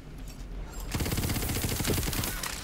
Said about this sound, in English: Will you stop shooting at me?